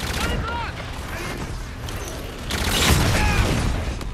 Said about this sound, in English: Oh, I threw a grenade at myself.